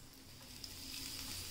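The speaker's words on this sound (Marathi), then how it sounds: "आता आपण ह्यामध्ये बोंबील फ्राय करून घेऊयात." Bombay duck fish frying in hot oil, a faint but steady sizzle that grows slightly louder and stays even throughout, with no talk.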